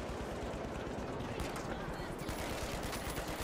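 Rapid bursts of FCAR rifle fire in the shooter game The Finals, a dense stream of loud automatic shots with players talking over the gunfire.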